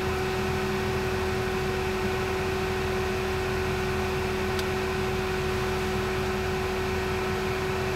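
A 2001 Ford Taurus air-conditioning compressor and dashboard vent blower run together as a steady, even whoosh with a faint constant hum underneath, unchanging for the whole stretch with no talk.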